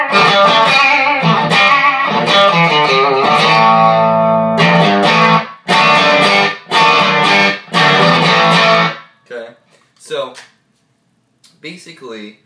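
An electric guitar on its bridge pickup with light overdrive plays loud, bright chords and note runs in several bursts, ending with sparse fading plucks.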